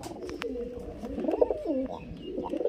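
Near and steady, a green and a Jag pigeon pair coo repeatedly, their rolling low calls rising and falling in overlapping phrases with small rustles between.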